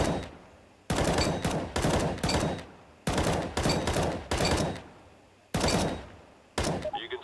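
Rifle fire in CS:GO comes in short, sharp bursts of a few rapid shots each, about six loud close volleys separated by brief pauses.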